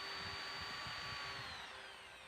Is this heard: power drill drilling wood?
yes